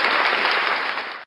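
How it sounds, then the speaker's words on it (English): Canned applause sound effect played on a live sports talk show stream, a steady dense wash of clapping and cheering at full volume that cuts off abruptly after about a second. "I'm going to clap for you."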